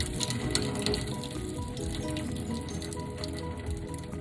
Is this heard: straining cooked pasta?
yes